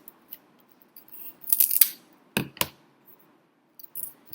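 Scissors cut out a paper shape with a few crisp, close snips scattered over several seconds, with quiet gaps between the cuts.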